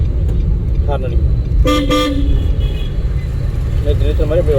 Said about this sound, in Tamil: ஹார்ன் அடிக்கும்.